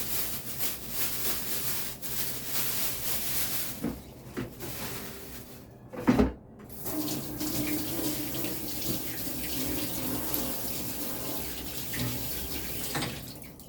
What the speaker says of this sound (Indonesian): Terus nanti sayurnya tak rendam dulu.